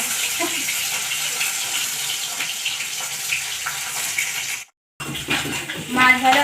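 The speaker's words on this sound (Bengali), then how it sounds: "মাছ ভাজা" Pieces of catla fish frying in oil in a kadai, a dense steady sizzle that cuts out briefly and then resumes, with a voice speaking over it in the final seconds.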